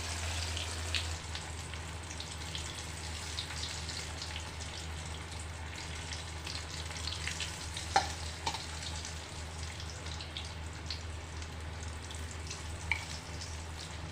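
Pakora batter dropped by hand into hot oil in a kadhai fries with a steady, close crackling sizzle, with a few sharper pops and spatters rising above the continuous hiss.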